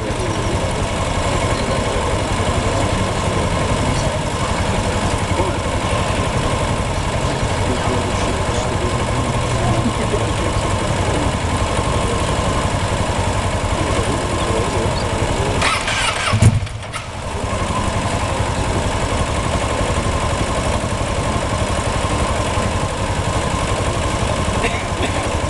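A Triumph/BSA Rocket 3 triple race motorcycle engine runs loud and close, holding a rough, steady idle throughout with a brief dip partway through before picking back up.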